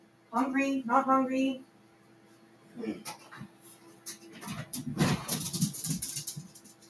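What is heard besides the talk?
dog barking and whimpering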